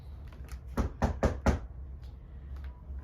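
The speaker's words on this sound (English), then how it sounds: "Notice I knock before I enter the room." Four firm knocks on a room door land in a quick even rhythm, close and clear, followed by a few fainter taps and quiet room tone.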